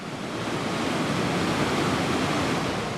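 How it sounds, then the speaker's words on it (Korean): A waterfall and fast river current in Alaska's salmon country make a constant, dense roar of churning water that stays loud and unbroken throughout, with no voices. "폭포 상류 쪽으로 향하자 물살은 더 세 보입니다"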